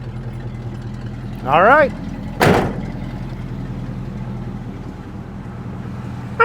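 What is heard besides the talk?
1980 GMC K5 Jimmy engine starting and running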